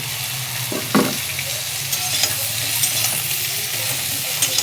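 Vegetables fry in oil in a pan with a constant crackling sizzle, punctuated by periodic scrapes and taps of a stirring spoon against the metal, close and fairly loud.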